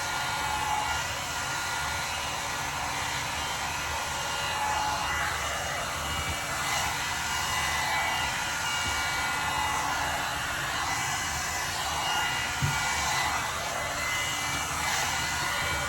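A hair dryer blows hair dry nearby, a loud, unbroken airy roar with small shifts in tone as it moves around the head, with no talking.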